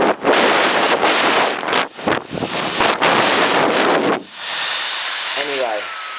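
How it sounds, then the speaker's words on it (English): A hairdryer on its low setting blowing air at a small DJI Spark drone, heard as loud gusty roaring buffets against the microphone that surge and drop, then settle into a steadier quieter rush with a faint whine. "This hairdryer is quite powerful. I'm going to turn it on."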